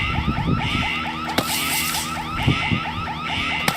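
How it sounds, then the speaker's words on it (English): A loud alarm wails nonstop in a fast, repeating warbling siren pattern with sharp mechanical clicks mixed in, and no voices. "Sound the alarm"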